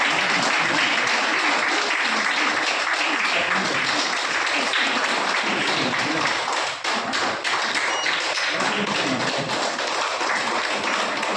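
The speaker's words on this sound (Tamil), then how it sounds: "எங்களுக்காக ஒரு பெரிய கைத்தட்டல்" A book festival audience applauds loudly and steadily for the whole stretch, a dense wash of many clapping hands with a brief dip near the middle.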